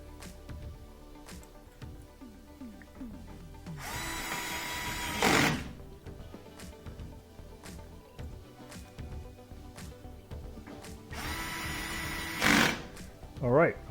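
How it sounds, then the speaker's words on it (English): Screws being driven into the back panel of a Whirlpool appliance with a power driver, two sustained whirring bursts of several seconds each, close and fairly loud, with faint speech and handling clatter between them. "And then we're going to add those 3 screws on the back."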